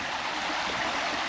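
A small creek in Luxembourg flowing into a river after heavy rain, giving a steady, close rushing and babbling of water with no other sounds.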